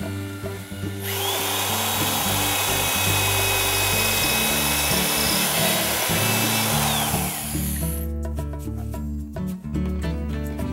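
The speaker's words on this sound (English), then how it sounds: "I'm going to continue pre-drilling my pieces of wood" A power drill whines loudly and steadily for several seconds, pre-drilling holes through wood for a raised garden bed, then winds down into scattered clicks and rattles.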